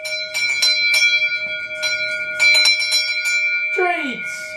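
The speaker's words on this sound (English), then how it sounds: "Treat bell." A small treat bell is rung in a series of quick bright dings in two bursts, close and clear, then a voice speaks at the end.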